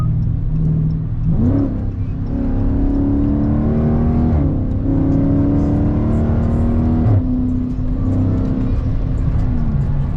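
A 2020 Corvette C8 engine revs and accelerates, pitch climbing through gear shifts, a loud sustained drone nearby with a few brief drops between gears.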